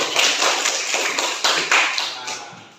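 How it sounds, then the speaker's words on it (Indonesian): A classroom of middle school students claps their hands together, a brisk burst of overlapping claps close by that swells and then tapers off over about three seconds. "Tepuk tangan dulu kita."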